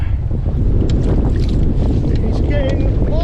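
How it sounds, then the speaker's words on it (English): Strong wind buffets the microphone during kayak fishing off Skye from a Hobie kayak, a loud continuous rushing roar with gusts and faint water noise around it. "It's getting more windy on the windy scale."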